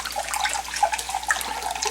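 Liquid pours steadily into a measuring cup for about two seconds, a close, continuous splashing trickle with no talking over it.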